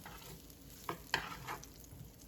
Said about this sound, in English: So you hear that little sizzle.